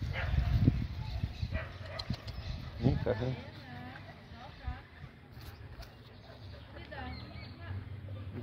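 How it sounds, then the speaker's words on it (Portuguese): Two small dogs bark in short, sharp yips that come in a few clustered bursts, heard close and mixed with people talking. "As duas cachorrinhas."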